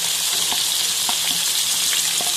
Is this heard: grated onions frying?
yes